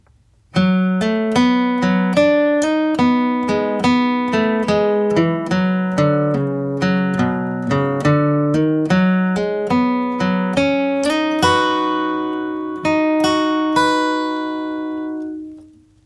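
A flatpicked acoustic guitar plays a quick, bright bluegrass line of crisp single notes, ending on a ringing held chord.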